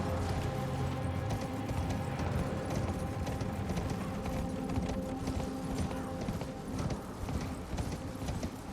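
Horse hooves clip-clop at a steady gallop in the Elden Ring video game, a continuous rhythmic drumming close by over a dense game soundscape, with a faint whinny.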